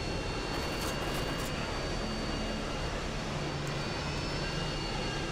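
Jet aircraft noise from a Harrier in Call of Duty: Modern Warfare 2, a steady broadband roar holding at a constant level for the whole stretch, with no clear pass-by swell.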